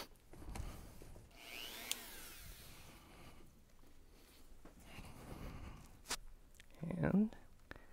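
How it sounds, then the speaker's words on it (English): A handheld Dremel rotary tool grinds a slot across small screws during a MacBook Air 13-inch A1466 logic board repair, heard in short faint buzzing bursts with a louder rasp near the end. "we're gonna have to actually cut a line through our screws with a Dremel"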